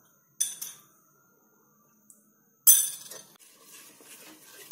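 A spoon stirs milk with lemon juice in a pan, giving sharp metallic clinks against the pan in two short bursts separated by quiet, the second followed by softer scraping, close up with no speech.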